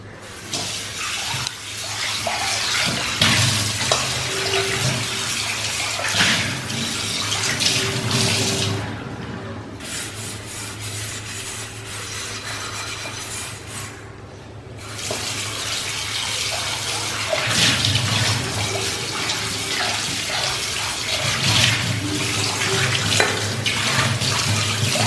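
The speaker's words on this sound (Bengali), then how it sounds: "এবার কড়াইয়ের ভেতরটা ধুয়ে নিই।" Tap water runs steadily into a sink while the inside of a cooking wok is washed, a close continuous gush with a couple of brief pauses and changes in flow, no talking.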